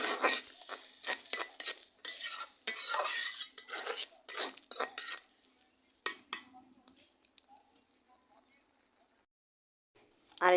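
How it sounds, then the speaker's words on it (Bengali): A utensil scrapes and clinks busily in a pan as ginger paste, salt, turmeric and chili powder are sautéed for a dried-fish, potato and tomato curry. The clatter is steady at first, then fades to sparse, quiet scrapes. "এখন আমি মশলাগুলা ভালোভাবে কষাই নিব"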